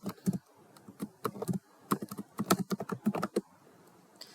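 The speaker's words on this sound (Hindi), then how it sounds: "मैं पासवर्ड एंटर कर लेता हूँ" A password being typed at a Linux terminal on a computer keyboard: about twenty close, crisp key clicks in quick uneven bursts, clear and alone with no voices.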